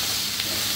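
Turmeric sizzles and fries in hot egg bhurji masala as it is stirred in the pan, a steady, loud, hissing crackle that is brief and continuous without voices.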